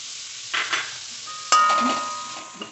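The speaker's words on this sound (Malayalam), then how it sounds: "നല്ലോണം ഒന്ന് വഴറ്റിട്ട് ഇതിന് ശേഷം നമുക്ക് തക്കാളി ചേർക്കണം" Ingredients for a chicken roast are sautéed in a pan, with soft sizzling and a few scraping stirs, including one sharper clatter midway, close and fairly quiet with no talk.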